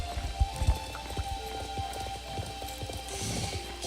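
Horse hooves from the video game SSO clop along at a steady running pace, with a couple of louder thuds near the start, set against soft ambient game music and a faint rain-like patter.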